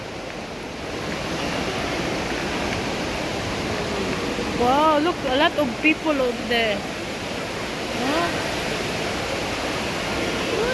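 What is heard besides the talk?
flowing water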